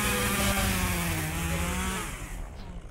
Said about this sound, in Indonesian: Ini gergaji mesin.